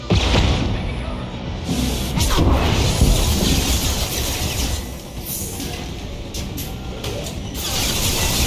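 In the Mass Effect video game, a cloaking ability activates amid a dense, continuous mechanical whir with grinding, clanking bursts and low rumbles, loud and steady throughout.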